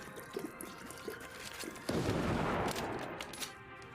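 A gunshot with a burst of noisy impact in a video game, arriving suddenly midway after quieter rattling and fading over the next second or so, moderately loud.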